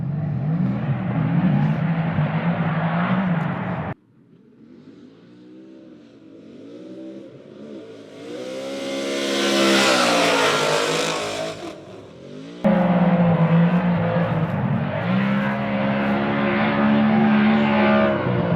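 Ford Mustang RTR cars on a tandem drift lap: loud, close engine roar with the revs rising and falling, a sudden cut to a quieter, distant pass that swells as a car approaches, then the loud engine returns.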